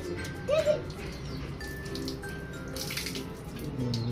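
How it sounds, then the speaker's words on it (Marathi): Water runs steadily from a household tap during a Gudi Padwa festival morning, a continuous soft splashing rush with a brief louder gush early on and faint bird calls in the background. "नळ टाका थोडं."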